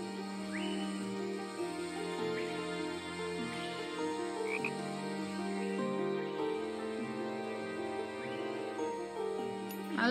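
Frogs croaking in the nature-building video game Equilinox, a steady layered chorus of low, pulsing croaks running throughout with faint chirps above, continuous and fairly loud with no voices.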